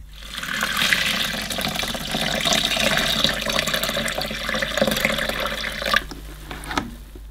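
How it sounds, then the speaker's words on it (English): Hot water pours in a continuous rushing stream into the tank of a Rug Doctor Mighty Pro X3 carpet washer, close and steady for about six seconds before stopping, followed by a few faint knocks. "then you top that up with the hot water until the water is about halfway up this mesh screen here"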